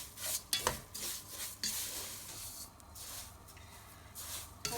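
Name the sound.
scraping sides of pan while frying sev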